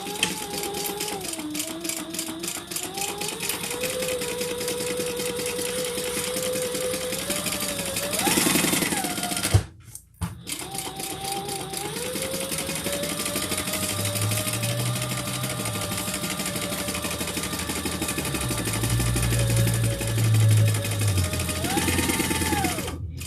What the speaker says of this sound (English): I'm going to add the lining and the front wrong sides together and just baste that all the way around